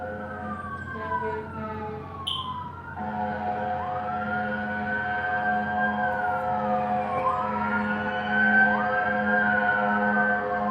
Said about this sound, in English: That's a fire truck, you guys.